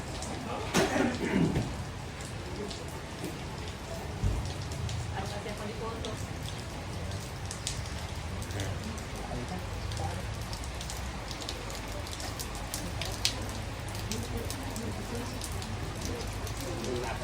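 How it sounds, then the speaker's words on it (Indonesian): Rain falls steadily during a wedding, a soft, constant patter on surfaces with a few louder knocks early on, fairly faint overall. "hujan berkat buat pengantin"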